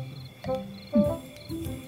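A cricket chirps at night in a quiet indoor comedy scene, a few short bursts standing out against soft background hum.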